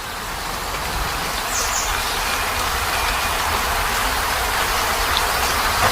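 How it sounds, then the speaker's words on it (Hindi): Heavy rain pours in a cartoon, a steady, loud, dense hiss that stays constant from start to finish with no pauses. "बंसी मामा, बारिश बहुत तेज है।"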